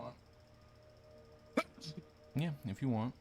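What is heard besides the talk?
sneeze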